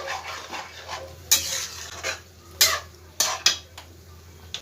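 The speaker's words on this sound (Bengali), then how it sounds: "ভালো করে একটু নাড়াচাড়া করে আরও 2 মিনিটের মতন আমি এটা একটু ফুটতে দেবো।" A spoon stirs a vegetarian mixed-vegetable curry with ghee in a pot, making soft scraping strokes broken by four or five sharp clinks of metal against the pot, close and clear over a faint low hum.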